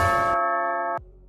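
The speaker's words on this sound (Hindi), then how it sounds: "कितना घंटी बजाएगा" An electronic doorbell chime rings loudly, a sustained bright tone that cuts off suddenly, leaving a quiet low hum.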